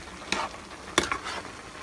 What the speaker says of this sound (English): So then I'm just gonna mix it all together.